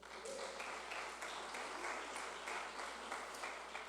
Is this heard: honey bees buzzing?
no